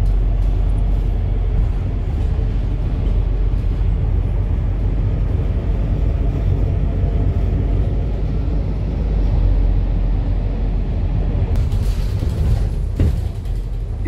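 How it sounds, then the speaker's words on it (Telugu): A ride aboard a Rapid KL public bus in Malaysia brings a steady, loud low engine rumble and road noise throughout, with some rattling near the end and no talk. "ఇన్కమ్ ట్యాక్స్ ఆఫీస్కి మేము ర్యాపిడ్ కేఎల్ బస్లో ఇప్పుడే బయలుదేరాము"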